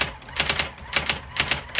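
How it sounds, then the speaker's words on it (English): A Brother GX-6750 electronic typewriter correcting, with a rapid series of crisp mechanical clacks and strikes in an uneven rhythm, close and clear with no talking. "I want y'all to see it correcting"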